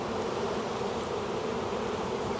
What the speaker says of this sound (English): So let's see if I take these bees,